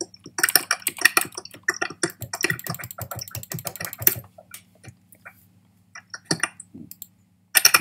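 A new computer keyboard clatters close by in quick bursts of clicking keystrokes, thinning into scattered taps and then a short pause before a final burst, with no talking.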